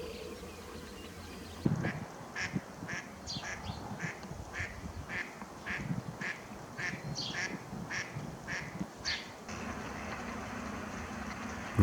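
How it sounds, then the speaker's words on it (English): Northern shoveler ducks call in a run of short, repeated nasal notes at moderate distance over a low outdoor rumble, about a dozen calls in an uneven rhythm, with no talk. "Northern shovelers are distinct with their massive bills that they use to sift organisms out"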